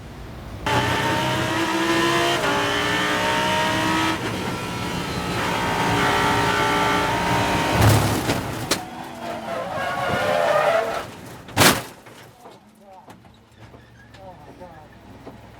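Lamborghini race cars lapping the track at Road America, loud engine roars with shifting pitch, brief tire squeals and sharp bursts passing near, ending in quieter patches; a voice talks over parts of it.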